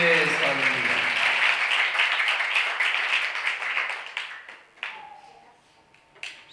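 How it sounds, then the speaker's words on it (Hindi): Church congregation clapping loudly and steadily in praise of Jesus at a Hindi-speaking Christian service, the applause fading out toward the end with a few scattered claps and some voices. "जोरदार तालियां बजाएं मेरे यीशु के लिए, जरा जोरदार।"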